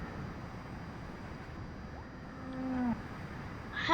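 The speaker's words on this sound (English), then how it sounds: "I just saw the cow." A cow in the video game Wobbly Life lets out a single faint, low moo partway through, over a steady background hum.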